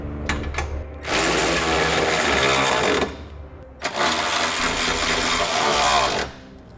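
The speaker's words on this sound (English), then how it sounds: "Now I'm going to come back and I'm going to snug up all my hardware. I'm going to be using a 19mm socket." A 19mm socket on a wrench drives bolts snug on a Curt trailer hitch receiver for a 2016 Mazda, with two long, loud ratcheting runs separated by a pause, close up and without talk.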